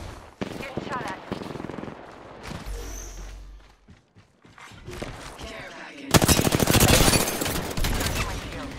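Gunfire in the video game Apex Legends during an arena match, loud bursts of shots and a sustained rapid volley near the end, mixed with game effects and a voice talking.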